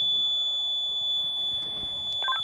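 An alarm valve tamper buzzer sounds in a basement during a fire alarm test. It is one steady, high electronic tone that holds unbroken throughout, with faint background noise.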